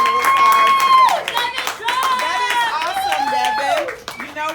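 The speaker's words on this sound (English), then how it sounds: "Let's give our king of listening a big round of applause" Hands clap in a round of applause for Devin, dense, sharp claps running throughout under loud overlapping voices and bright tonal sounds that rise and fall.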